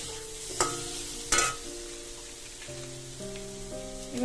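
Slit green chillies fry with turmeric and salt in a pan and are stirred, a steady soft sizzle with a couple of sharp scraping stirs, close by, no talking.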